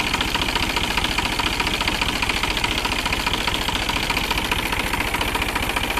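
A New Holland 47 HP tractor with poor pickup and mileage runs close by, its engine knocking in a loud, rapid, even rhythm without a break.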